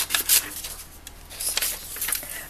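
Quiet, close snipping and rustling of paper in short irregular bursts, like scissors cutting, with no voices.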